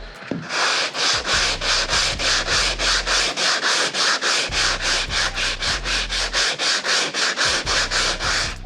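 Auto body filler on a car hood is sanded by hand with abrasive paper, producing loud, close, rhythmic scratchy strokes in an even back-and-forth pattern of about two per second throughout.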